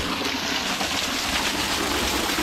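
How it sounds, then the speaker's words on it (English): Rushing water from a waterfall pours steadily, a close, loud and unbroken wash of spray with no voices over it. "Another waterfall, mate."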